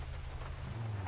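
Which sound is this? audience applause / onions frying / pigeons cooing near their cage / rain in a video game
rain in a video game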